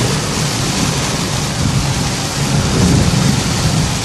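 Heavy rain with small pea-sized hail roars steadily in the core of a thunderstorm, a dense, loud, unbroken wash of noise with a low rumble underneath.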